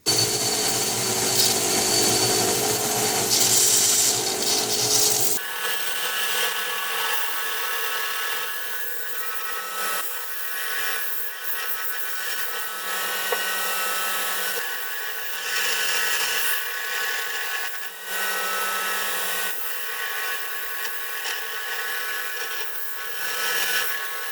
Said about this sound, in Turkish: Şimdi bant sımpara makinesinde